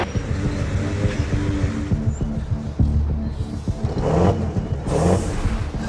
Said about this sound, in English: Oh, the muffler's broken.